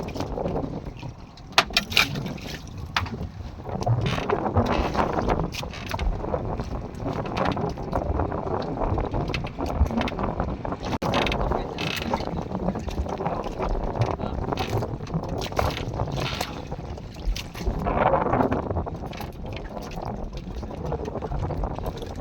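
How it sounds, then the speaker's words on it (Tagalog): A motorboat engine drones steadily with water splashing and wind buffeting the microphone, continuing throughout with faint voices in the background. "Ayan, may bangka na."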